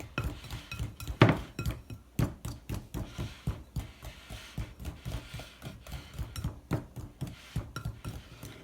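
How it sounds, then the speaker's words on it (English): A pastry cutter works fat into gluten-free flour in a bowl for biscuit dough, giving a steady series of close, rhythmic clinks and scrapes against the bowl, with one sharper knock near the start and no talking. "with my pastry cutter, we're going to incorporate that into the flour."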